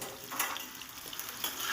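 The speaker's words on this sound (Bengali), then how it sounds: "অপর দিকটাও সুন্দর করে ভেজে নেব একটু লাল লাল করে ভেজে নিতে হবে" Cauliflower pieces frying in oil in a pan, giving a dense, steady crackling sizzle that stays close and even throughout, with a few light clinks over it and no voices.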